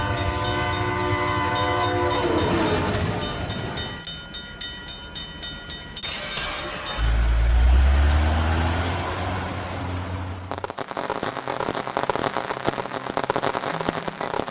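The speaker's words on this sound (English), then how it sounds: "A train is approaching the crossing." In a kids' construction vehicle video game, a train nears a railroad crossing with loud horn blasts and rumbling engine, then heavy clattering wheels and cars rolling past, alone without talk.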